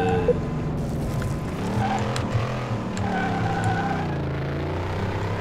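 A 1970 Dodge Challenger driven in Car Mechanic Simulator 2018: a steady, loud engine drone rising and falling in pitch as it revs, close and continuous with no talking.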